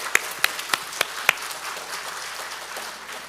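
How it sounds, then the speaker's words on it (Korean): A handful of sharp, separate hand claps from a church congregation during a Sunday service welcome, spaced unevenly over a quiet room with no talking. "환영의 박수"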